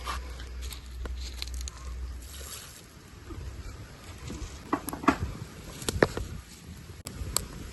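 Mustard seeds and fenugreek spluttering in hot oil: faint, scattered sharp pops and crackles over a low sizzle, growing denser toward the end, with no voices.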